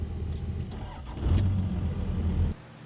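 A diesel pickup truck engine cranks and catches, the starter churning for about a second before the engine fires up into a louder rumble that runs briefly and then cuts off, close and alone.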